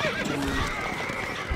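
Horse neighing in the Stronghold Crusader strategy game, a clear whinny with soft clip-clop hooves beneath, moderately loud and close over a low game ambience.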